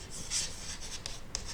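A pen scratches across paper while a class 10 polynomial exercise is worked out, giving a soft continuous rasp with a few brief sharper strokes, close and quiet.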